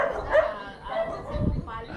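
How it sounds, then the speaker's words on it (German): Several dogs bark and yip aggressively in a riverside slum in the Amazon, the bursts loud and close, mixed with people talking nearby. "Ja, die Hunde sind ein bisschen aggro."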